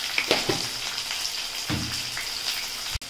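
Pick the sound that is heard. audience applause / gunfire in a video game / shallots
shallots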